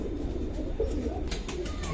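Silver pigeons coo softly and steadily in a pigeon collection, low throaty calls rolling under faint background noise with a few brief higher chirps near the end.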